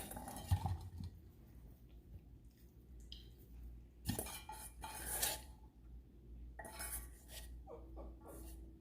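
A utensil scrapes and clinks against a bowl while breakfast calzone filling is mixed, in quiet, intermittent bursts with small taps and wet squishes between them and no talking.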